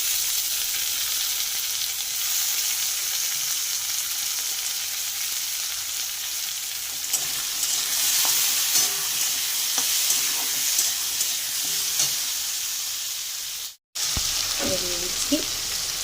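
Tomato, green chili and salt fry in a hot pan, a steady, fairly soft sizzle with occasional stirring scrapes and clinks, continuing unbroken except for a brief dropout near the end.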